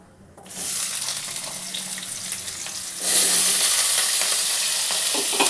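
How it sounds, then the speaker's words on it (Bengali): Potatoes frying in a pan for a home-style vegetarian potato and pea dal curry, a loud close sizzle that starts abruptly and grows stronger partway through, with no talk. "যে আলুগুলো একটু ভেজে নিচ্ছি আমি।"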